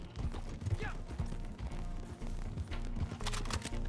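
Hoofbeats of a horse galloping in the video game Red Dead Redemption 2, a steady run of low thuds under game ambience, with a brief whinny-like tone early on.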